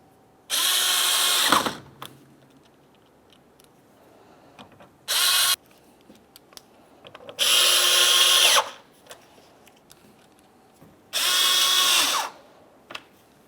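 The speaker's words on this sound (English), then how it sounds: "continue on along the top with your Phillips head screws. You'll have 7 of these making their way across." A power drill drives Phillips head screws along the top of a 2010-2013 Ford Transit Connect front grille, in four loud whirring bursts of one to two seconds each, with quiet gaps between and no talk.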